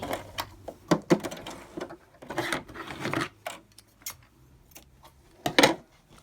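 A sewing machine joins the parts of a fabric tote bag in irregular bursts of rapid stitching, clattering and ticking close by, with brief pauses between runs.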